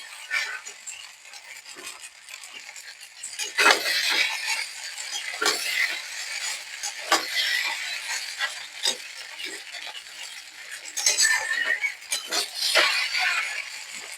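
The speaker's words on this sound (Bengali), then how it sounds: "এবার আমি ভেজে রাখা ডিমগুলো দিয়ে দেবো, তারপর ভালো করে নাড়াচাড়া করে নেবো।" Spatula scraping and clinking in a pan as pasta is stirred together with fried eggs: irregular scrapes and taps, some louder strokes, continuing steadily throughout with no voice.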